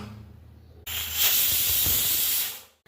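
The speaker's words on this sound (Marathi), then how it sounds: "तर आता इथं कुकरची शिट्टी पडून झाली" A pressure cooker cooking sabudana for kheer suddenly vents a loud burst of steam, a sharp rushing hiss that swells, holds for about two seconds, and cuts off abruptly.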